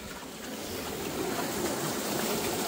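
Water rushes steadily through a water wheel driving a small generator, a loud, continuous broadband wash that builds slightly over a few seconds with no voices.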